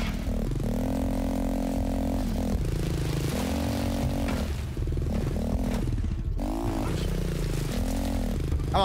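Motorcycle engine in the Laika video game, a steady buzzing drone that rises and falls in pitch as the bike revs and accelerates, with clattering and scraping over it and a brief dropout near the middle.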